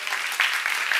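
A church seminar audience applauds, producing a brief, dense patter of many hands clapping at moderate volume.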